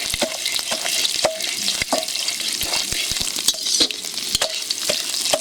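Whole spices and a bay leaf fry hard in hot oil for tempering mung dal with rohu fish head, a dense crackling sizzle with repeated sharp scrapes and clinks of a spatula against the pan.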